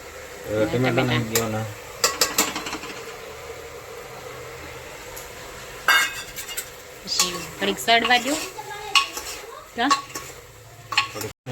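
Eggplant curry sizzling in hot oil in a pan while a spoon stirs and clinks against the metal, with scattered scraping taps and intermittent talking over the frying.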